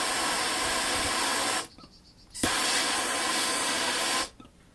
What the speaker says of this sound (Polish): Używam tu do podpalenia palnika.